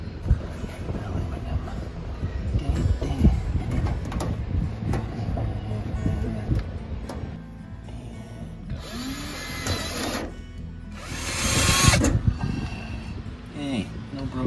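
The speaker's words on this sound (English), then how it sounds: "Drilling a hole." A power drill whirs in short bursts, including two strong high-pitched runs, over clattering handling noise and background rumble.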